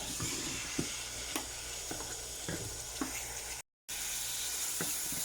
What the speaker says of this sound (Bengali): আর এগুলো ভালোভাবে ভেজে তারপরে কষিয়ে রান্না করবো